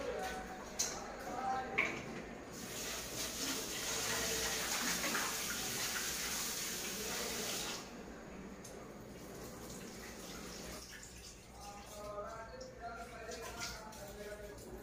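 Tap water runs steadily into a sink while lote fish are scrubbed with salt and rinsed, a close, continuous splashing that cuts back partway through, leaving softer trickles and handling noises.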